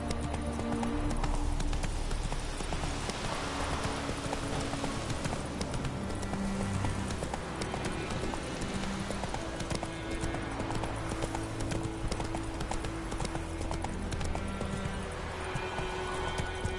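Roach, a horse in The Witcher 3, trots with steady clip-clop hoofbeats that run throughout, loud and close over continuous background ambience and music.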